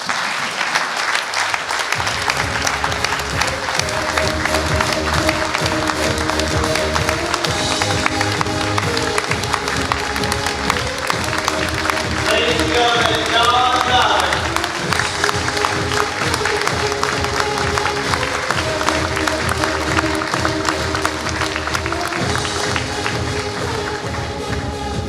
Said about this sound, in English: I think we owe him one more round of applause